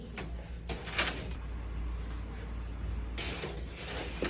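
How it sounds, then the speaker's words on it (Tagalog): A drawer slides open with creaking and scraping, a few quiet mechanical rubs and clicks spread over several seconds in a hushed room. "Kukuha po ako sa drawer niyo."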